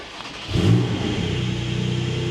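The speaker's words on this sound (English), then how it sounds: "So I'm going to start the car." A 2022 Porsche 718 Cayman GT4 flat-six engine starts with a sharp starter whir and catch, then a throaty rev that settles into a steady, rumbling idle close by.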